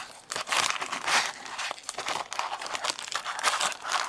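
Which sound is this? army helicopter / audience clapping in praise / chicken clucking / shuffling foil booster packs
shuffling foil booster packs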